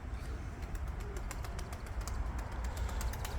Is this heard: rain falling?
no